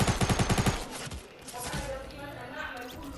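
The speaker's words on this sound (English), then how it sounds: "Go use this SMG." Rapid burst of SMG fire in Fortnite, about seven close, evenly spaced loud shots in under a second, then ambient game noise with talking over it.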